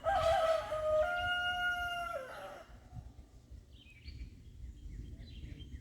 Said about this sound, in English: He has a very unique crow.